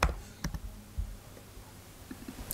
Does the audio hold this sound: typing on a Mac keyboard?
yes